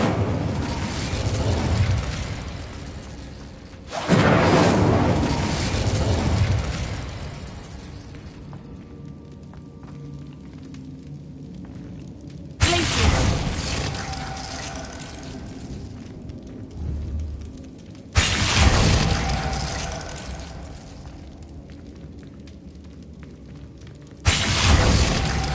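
Incendio fire spell explosions in a video game: four loud whooshing, crackling fiery blasts spaced several seconds apart, each fading into a softer rumbling tail before the next.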